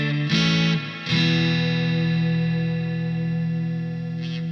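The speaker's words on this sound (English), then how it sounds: "Let's put maximum reverb hall on." Guitar played through a Sonicake QGT-01 effects unit set to maximum hall reverb: two strummed chords ring out in quick succession, then sustain into a long, washy, echoing tail that slowly fades, with no talking.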